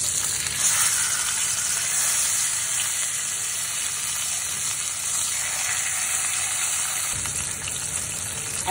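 Salmon fries in its own rendered fat in a pan, a steady, dense sizzle and crackle that runs on without a break, close to the listener.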